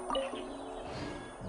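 Startled birds in Genshin Impact give a quick burst of chirps and tweets at the start, then fade into a low game ambience over about a second and a half.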